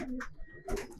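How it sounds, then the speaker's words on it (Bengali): A pigeon held in the hand gives a brief, soft coo, close and quiet, with a rustle of feathers or handling around it. "অনেক ছটছটে কবুতর।"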